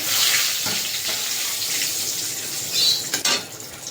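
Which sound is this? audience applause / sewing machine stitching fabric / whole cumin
whole cumin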